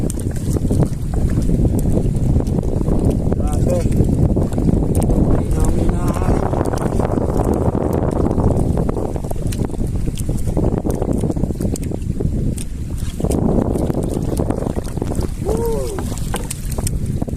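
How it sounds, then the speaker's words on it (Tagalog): Strong wind buffets the microphone with heavy rumbling gusts throughout, while people speak briefly beneath the roar. "Lakas ng hangin."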